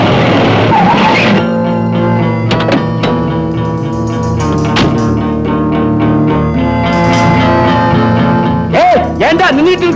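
A film sound effect of a car skidding in an accident opens with a loud, brief burst of screeching tires, then fades under a swelling music score, with voices heard toward the end.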